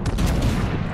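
A warship's main guns fire a salvo in the naval battle game World of Warships, a loud dense burst of booming blasts filling the whole second with no one speaking.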